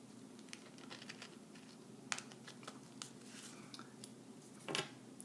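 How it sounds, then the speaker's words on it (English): Scissors snipping through a Jamberry nail wrap sheet, a few soft crisp cuts and faint crinkles close by against a quiet room, with one sharper snip near the end. "I'm going to cut a little under half of this wrap"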